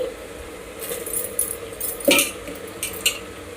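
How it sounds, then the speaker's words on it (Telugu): Rice tips into a pan for methi pulao, a few soft pours broken up by sharp metallic clinks and scrapes of a utensil against the pan, close and fairly loud with no voices. "ఇప్పుడు మనం రైస్ వేసుకోవాలి."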